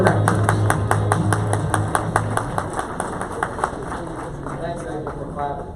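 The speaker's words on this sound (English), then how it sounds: "Thanks, David, for clapping for me." An audience claps for the incoming 2024 chair of a regional chamber board of directors at a morning legislative issues event, a steady run of sharp handclaps with a voice talking underneath.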